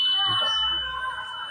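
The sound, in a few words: electronic voting machine beep after casting vote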